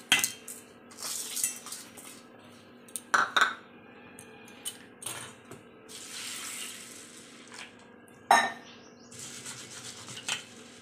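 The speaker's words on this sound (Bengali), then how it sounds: "এই ডালটা ধুচ্ছি দেখেন" Masoor lentils being washed in a pot under a running tap, water splashing steadily with clinks and scrapes of metal and a few sharp knocks against the pot, close by, with no talk.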